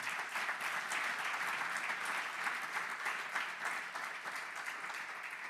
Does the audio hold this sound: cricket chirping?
no